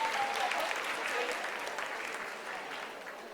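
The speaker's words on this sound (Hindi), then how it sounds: "आप तालियों के गड़गड़ाहट से सुन सकते हैं" Applause breaks out in the Chandrayaan 3 mission control room during the lunar landing's vertical descent, sustained clapping at moderate level that slowly fades, with a faint tone and a hint of voices underneath.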